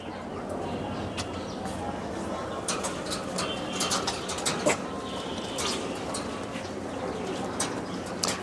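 Caged pigeons fed wheat, soft cooing and bursts of wing flapping and scratching in the cages, while a person talks over them throughout.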